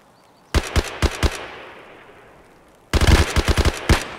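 Two rapid bursts of automatic gunfire in a video game, loud and close, each a quick string of sharp shots separated by a decaying echo and a brief lull, with no talking.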